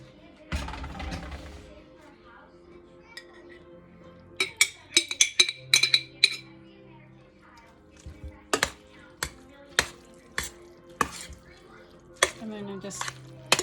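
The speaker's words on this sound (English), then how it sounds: "Drain your pasta." Pasta is drained from a cooking pan, with a short splash and pour followed by a run of bright metallic clinks and taps from the pan and utensils.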